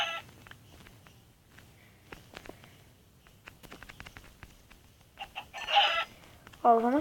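A chicken in a survival video game gives a few short, faint clucks among soft scattered game noises and clicks, with louder squawks near the end.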